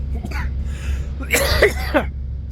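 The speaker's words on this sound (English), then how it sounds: "cough is still here" A few rough coughs or throat-clearing bursts, close and fairly loud, over a steady low hum.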